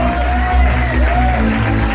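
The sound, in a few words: audience applause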